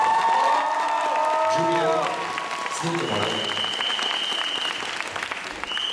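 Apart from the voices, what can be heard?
audience applause for Mrs. Chubanska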